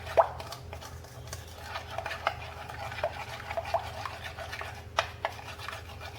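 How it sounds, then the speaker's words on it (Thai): A ground meat mixture for meatballs stirred in a bowl until it dissolves, with soft scraping and occasional wet plops, close and quiet, no voices. "อันนี้เราก็คนให้เขาละลายดีนะคะ"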